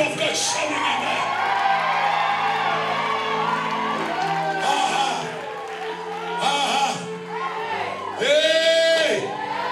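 A church congregation shouts, whoops and cheers loudly, filling the room with crowd noise. Excited voices rise in waves and peak in bursts near the end.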